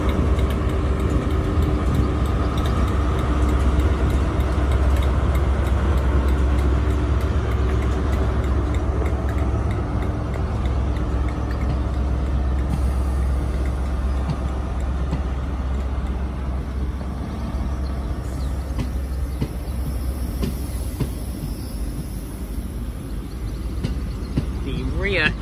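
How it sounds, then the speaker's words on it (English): A Great Western Railway passenger train passing through Worle station, a sustained loud rumble and rolling rail noise that fills the whole stretch and eases slightly toward the end, with a platform announcement heard over it. "To pass out now is the 13:16 Great Western Railway service from Cardiff Central to Taunton."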